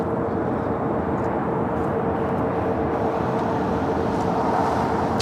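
A steady, loud broadband roar from a jet taxiing at LAX, an Air France Boeing 777 heading to the south side, holding constant throughout with no talk.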